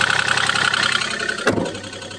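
A Komatsu PC25 mini excavator's diesel engine, still cold after a month of standing, runs with a loud, close, rapid knocking chug, punctuated by a brief sharp clatter near the end.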